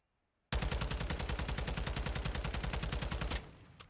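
TAQ 56 rifle in a video game firing one long fully automatic burst of about three seconds, rapid evenly spaced loud shots starting abruptly after silence and ending with a short fading tail.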